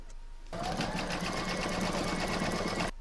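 An embroidery sewing machine runs steadily, stitching one section of a small owl hair barrette appliqué in mauve thread, starting after a brief quiet moment and continuing with an even, close, rapid mechanical whirr to the end.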